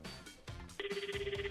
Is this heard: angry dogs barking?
no